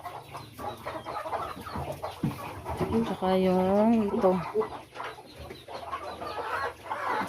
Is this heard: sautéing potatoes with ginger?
no